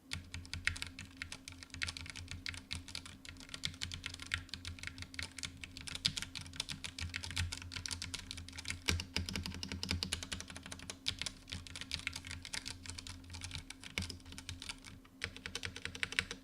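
Steady, rapid typing on a compact gaming keyboard fills the recording, a dense patter of clicky keystrokes recorded up close with a faint hum underneath.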